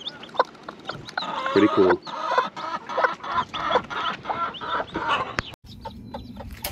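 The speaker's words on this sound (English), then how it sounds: "We got all the little baby chicks running around." A hen clucks among her baby chicks on a farm, repeated busy clucks and peeps close by, with a brief spoken remark in between.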